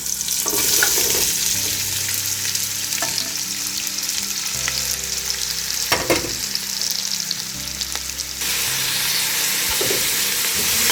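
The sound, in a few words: chopped onions frying in oil for chicken biryani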